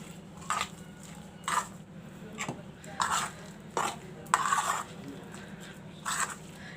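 Mango chutney with green chilies and salt is stirred in a bowl, making a series of soft, evenly spaced scraping and thudding strokes against quiet room noise.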